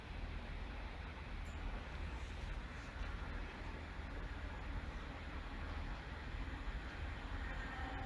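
GB freight train 4033 from Felixstowe to Doncaster rumbling past, a dense continuous roar of wagons and wheels, steady and fairly distant throughout with no voices.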